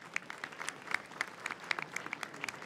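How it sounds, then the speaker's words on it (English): Sparse, quiet applause at the close of a developer conference day: scattered individual claps popping out irregularly over a soft hall background, fairly distant. "give one more round of applause to all of our incredible speakers today"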